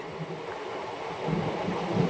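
A train rumbles along steadily on the Telangana to Chhattisgarh route, a dense low roar of wheels and carriage noise heard from onboard that grows slightly louder toward the end.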